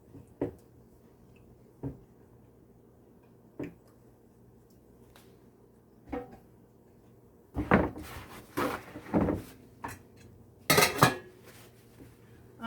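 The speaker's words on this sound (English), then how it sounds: "So I'll just move it from the heat." Pot moved off an electric stove in a home kitchen: a few scattered faint knocks, then a louder cluster of metallic clanks and scrapes as the pot shifts, close by, with quiet gaps between.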